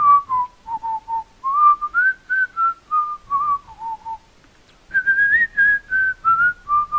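A person whistles a melodic tune in clear, close phrases, with a short pause midway before the bright wavering notes resume, heard alone without talk during a MineZ Minecraft gaming session.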